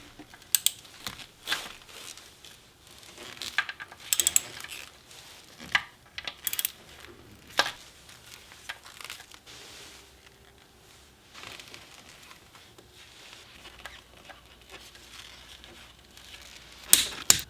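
Sharp metallic clicks and clinks of tools removing bolts from an engine cover bracket on an Audi B7 RS4 intake manifold, scattered irregularly with quiet gaps between, close by and fairly faint.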